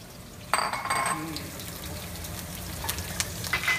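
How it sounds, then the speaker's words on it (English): Green onions and garlic hit a hot pan and sauté with a close, steady sizzle, a sharp hiss and a clink of utensil at the start, then softer stirring clatter. "I'm just gonna put the green onions in here and some garlic to saute real quick"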